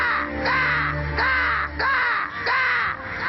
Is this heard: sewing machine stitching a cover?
no